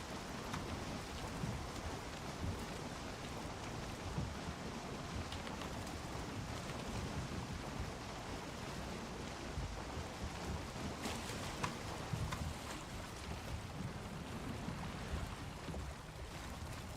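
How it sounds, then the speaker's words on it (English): Steady heavy rain with rumbling storm noise from the video game Valheim, a dense continuous wash with no voices. "I was focusing on this stupid storm"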